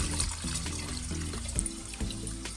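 Water is scooped and poured into a 5-litre sprayer tank in a vegetable garden growing water spinach, a steady close splashing and gurgling trickle running without pause and with no voices.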